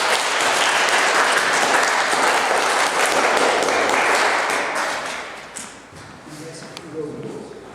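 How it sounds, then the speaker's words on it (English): A whole-school assembly breaks into a loud, sustained round of applause for volunteers, dense clapping that fades after several seconds into scattered claps while a voice speaks. "These people deserve a big round of applause for their volunteer work."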